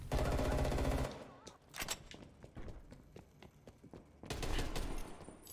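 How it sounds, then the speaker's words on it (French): An enemy automatic turret in a video game fires a rapid, steady stream of shots at mid distance, framed by louder bursts of noise at the start and end of the stretch. "C'est qui qui me tire dessus Tourelle automatique ennemie détectée dans votre ZO."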